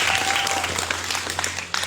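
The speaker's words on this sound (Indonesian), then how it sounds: "tepuk tangan untuk calon nomor urut 3." Audience applause fills a school hall during a student council candidate debate, a dense, steady burst of many hands clapping close by, lasting under two seconds with no talk over it.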